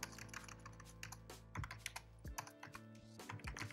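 Computer keyboard typing while entering code, a steady run of quick clicks and keystrokes at low level, alone with no voice.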